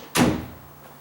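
A door swings and thuds shut during a routine round of checking doors, one sharp close landing near and loud, then a fading rattle and quiet room tone.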